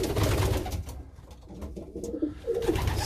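Young pigeons give soft, low coos in a loft, a steady murmuring bed of cooing near the mic with a few fuller calls toward the end, no talk.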